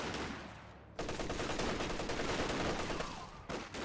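MG34 machine gun fire in Company of Heroes 2, a dense rattling burst that cuts out briefly, then resumes as continuous automatic fire mixed with other battle noise.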